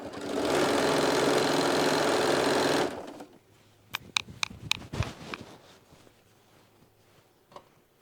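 A sewing machine stitches a quilt strip in a steady, dense whir for about three seconds, then stops, leaving quiet room noise broken by a few faint clicks and taps.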